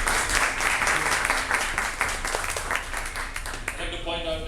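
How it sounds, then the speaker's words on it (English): A StartupGrind crowd in Singapore gives a dense, steady round of applause to welcome the moderator, holding at an even level before it thins and a voice starts speaking near the end. "Let's give a big round of applause to welcome Gwen."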